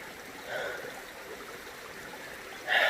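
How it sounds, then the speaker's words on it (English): A creek flows through a rocky gorge in Mt Remarkable National Park, giving a steady, soft trickling and babbling of water, close and continuous, with a slightly louder swell near the end. "Walking through this gorge with the creek alongside us"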